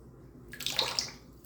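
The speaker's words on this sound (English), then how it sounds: "Put a little bit of the water from my brush into the soap" Water trickles from a wet shaving brush onto a puck of shaving soap in a short, soft splash and patter lasting about a second, close and quiet.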